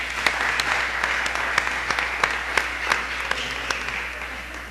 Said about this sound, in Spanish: démosle un aplauso de bienvenida a los amigos